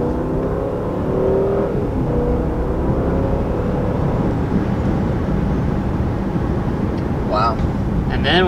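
A BMW 7-Series with a V8 accelerates, a loud sustained engine roar rising in pitch at close range, with faint chirps near the end.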